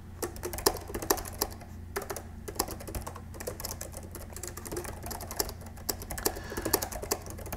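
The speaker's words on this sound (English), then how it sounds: "now I'm just going to type a simple message." Fingers type a short message on a computer keyboard, a close, continuous patter of quick key clicks with brief pauses and no talking.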